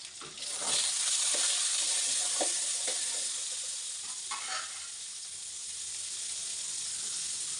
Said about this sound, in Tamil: இப்போ வேக வச்ச மூக்கடலையை சேர்த்துக்கலாம்